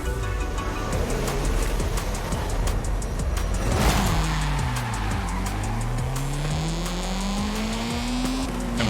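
A Honda VTEC-style engine revs hard in Forza Horizon 5, the pitch rising and falling through gear changes while tires squeal and skid, loud and continuous throughout.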